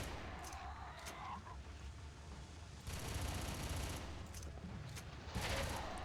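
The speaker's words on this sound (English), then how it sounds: "I love this semi-automatic fires like a fucking machine gun." Semi-automatic gun in the shooter game Red Faction firing in rapid bursts like a machine gun, dense continuous gunfire with a louder surge midway and near the end, set against game background noise.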